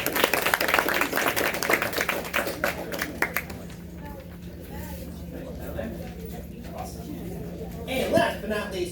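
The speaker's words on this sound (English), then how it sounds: "Let's give them a round of applause." Dense clapping from a crowd fills the first few seconds, then thins out into scattered claps and murmuring, with a brief louder burst near the end.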